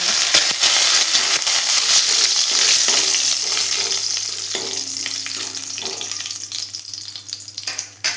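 Curry leaves sizzling in hot oil with popped mustard seeds and cumin, a loud, dense, steady frying hiss with crackle, close and continuous, fading slightly toward the end, no talking.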